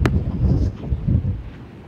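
Strong seaside wind gusting against a parked caravan, a steady low rumbling roar with buffeting surges and a sharp crackle near the start, alone with no voices.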